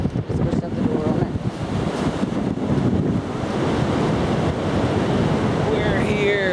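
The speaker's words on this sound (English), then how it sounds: "And the tide's coming in." Pacific Ocean surf rolling in at Seaside beach, Oregon, as the tide comes in: a continuous loud wash of breaking waves mixed with heavy wind buffeting the microphone, with no talk.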